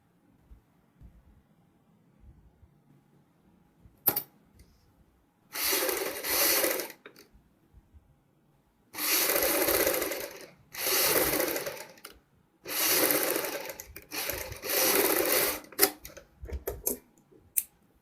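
A sewing machine stitches a paper fuse around the curved neckline of a kurti, running in four loud, close whirring bursts of a few seconds each, separated by quiet gaps and a sharp click or two.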